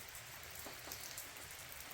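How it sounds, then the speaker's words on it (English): Rain falls steadily outside a trail shelter in Allegany State Park on the Finger Lakes Trail, making a faint, continuous hiss with no voices. "It's raining right now."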